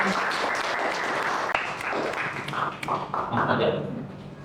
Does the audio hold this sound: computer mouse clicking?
no